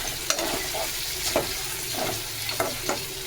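Mutton for mutton afghani frying in a pan with cloves and cinnamon, a constant sizzle broken by several sharp scraping stirs of a spoon at irregular intervals.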